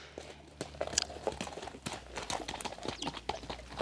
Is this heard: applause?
no